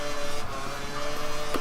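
An F1 car in F1 2013 at Malaysia swerves side to side to warm its tyres, giving a steady, close, buzzing engine drone with small rhythmic wobbles in pitch and a brief surge near the end.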